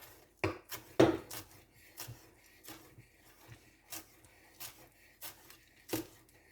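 A knife chops fresh cilantro on a cutting board in a home kitchen while Spanish rice simmers nearby. The close, sharp chops come unevenly, about a dozen in all, with two heavier strikes at the start.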